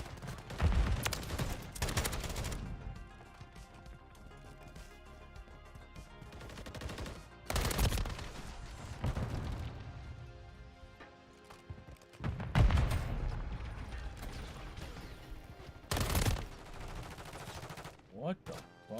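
Gunfire in a Call of Duty video game comes in bursts and heavy blasts between quieter stretches, with a voice talking at times over the game sound.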